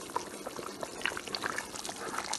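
Egusi melon soup with spinach simmers in a pot, giving faint, soft bubbling and popping that continues quietly throughout with no talking.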